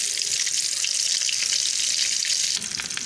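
Shami kebabs fry in oil over a low to medium flame, giving a dense, steady sizzle close by that softens slightly near the end, with no voices.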